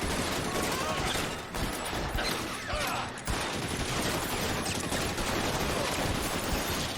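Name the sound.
gunshots in LA Noire video game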